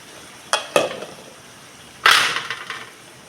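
Lote fish curry cooking in a pan over low heat, with a few short scraping stirs and bursts of sizzle, close by and moderately loud between quiet pauses.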